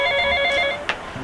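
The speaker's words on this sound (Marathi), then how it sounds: "ह्यो फोन कोणाचा येता तो" A telephone rings with a bright, steady electronic trill for about a second, then cuts off, followed by a faint thump, with no talking.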